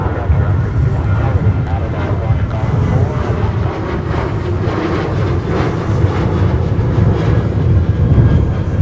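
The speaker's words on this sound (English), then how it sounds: "Looks like a charter flight." A Delta charter jet arriving from Detroit at a wintry Minneapolis airport rumbles as a loud, steady low roar that holds broadband and constant throughout.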